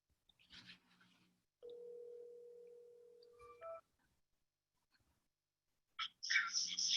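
A telephone tone sounds while someone is calling in by phone to a Zoom board meeting: a steady faint tone holds for about two seconds, then a couple of brief beeps, framed by quiet rustles and short noises.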